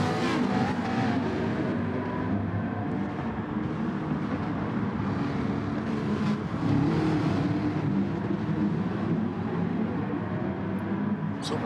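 Race car engines roar steadily in GT Sport at Autódromo de Interlagos, Brazil, a dense, continuous drone of multiple cars at speed with revving undertones, loud and unbroken throughout.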